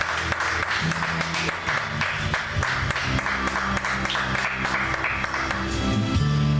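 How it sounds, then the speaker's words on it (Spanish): A church congregation claps together in applause to the Lord during an evening service, a sustained wash of hands over low music tones, fairly loud and continuous. "denle el aplauso al Señor"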